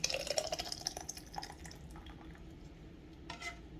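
Thick salsa sloshes and drips as it is poured into a jar for canning, with soft wet splatters, quieter toward the end, close up with no talking.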